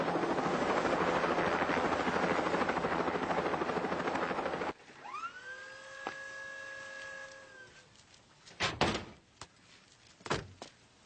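A helicopter flies overhead, its loud steady rotor roar filling the first half before cutting off abruptly, followed by a rising whine, a sustained tone and a few sharp bangs.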